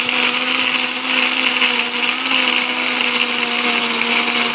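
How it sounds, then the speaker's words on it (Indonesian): A kitchen blender grinds shallots, garlic, candlenut and turmeric into a paste, a steady loud motor whine holding one pitch throughout with no voices. "Kemudian kita akan haluskan menggunakan blender."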